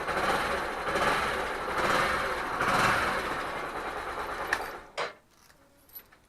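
A motorcycle engine, checked after a crash, revs with a loud throaty roar that swells and then cuts off, followed by a few mechanical clicks and quiet.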